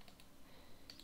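Keys on a computer keyboard tapped while a web address is typed in, a few faint, quick clicks heard up close against a quiet background.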